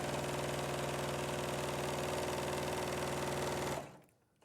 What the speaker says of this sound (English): you can just sew all your strips together